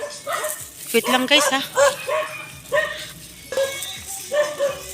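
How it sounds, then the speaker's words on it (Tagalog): Several dogs bark and yip repeatedly at a rural hut, the loud, clustered barks overlapping with people chatting throughout. "Ingay, puro aso."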